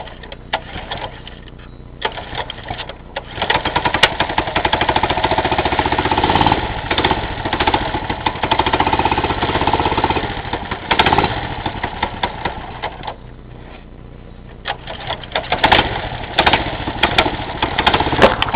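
A small mini bike engine runs roughly after a cold start, having sat unused for about a month and refusing to idle, its buzzing drone rising and falling in revs for nearly twenty seconds, loud and close with no talk.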